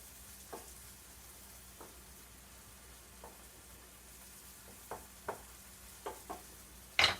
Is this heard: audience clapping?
no